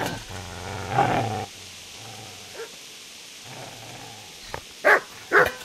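A dog in medieval Kingdom Come: Deliverance growls low and rumbling, then lets out a few short, sharp barks near the end, close and fairly loud against a quiet background.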